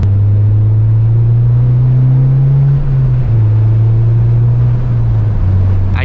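Honda Civic Si engine, a 9th-generation car being tuned, holding a loud, low droning rev close by, its pitch rising slightly and then easing back down.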